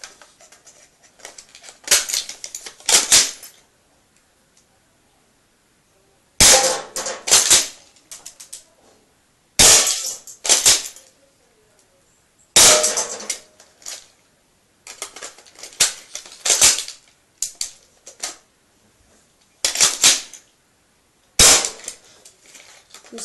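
A Bison BB shotgun fires in several sharp, snappy bursts of clustered cracks and clicks, each burst followed by a stretch of near-silence, recorded close with no voices.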